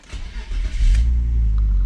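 A 1995 BMW E36 320i automatic with the M50 engine cranks and catches, then settles into a loud, close, steady idle rumble.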